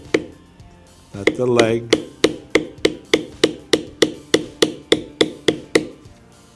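Leather carving of a dragon design: a metal bevel tool is struck repeatedly with a mallet, about fifteen evenly spaced sharp taps close by, after a brief scraping sound, with a voice speaking briefly.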